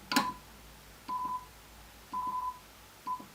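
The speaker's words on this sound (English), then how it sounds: "each of these has a number of beeps, so it'll go beep up to 4 times" Button beeps from a Casio Privia PX-850 digital piano: a short, clean electronic tone sounds several times in a quiet room, with single beeps and one longer run of repeated beeps, spaced about a second apart.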